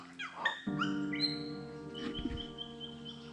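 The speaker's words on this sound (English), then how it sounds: "That was a palm cockatoo." A wild palm cockatoo along a remote northern Australian river gives a short series of clear whistling calls, moderately distant and fairly faint, over a steady outdoor background.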